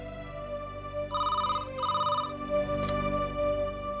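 A telephone rings with a bright electronic bell tone, sounding in two clear bursts with a briefer chirp after, close and alone with no talk.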